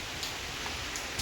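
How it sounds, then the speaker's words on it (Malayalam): Rain falls steadily, a soft, even hiss of drops on the surfaces outside with a few slightly louder patters, fairly faint and at a distance. "മഴ പെയ്യുന്നു ഗായ്സ്. ഭയങ്കര മഴ."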